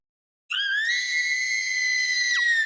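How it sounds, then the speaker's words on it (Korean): A single sustained, piercing high scream rings out alone for about two seconds and ends with a sharp downward break, in a hospital setting. "비명소리가 병원 안에 울려 퍼지고"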